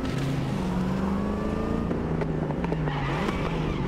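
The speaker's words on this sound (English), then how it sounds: "You hear, you hear crackle and pop, right?" A loud car engine roars and revs continuously, with crackling pops from the exhaust. No voices.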